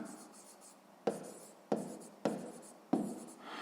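Pen on paper writing a rectangle's width in a sixth-grade math exercise: four sharp, close strokes or taps, each trailing into a short scratch, with faint background noise between.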